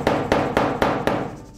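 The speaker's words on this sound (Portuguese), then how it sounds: "Dou uma marteladinha." A small silicone hammer taps a hard surface five times at an even, quick rhythm, each blow loud and close with a short ringing decay, and no talking.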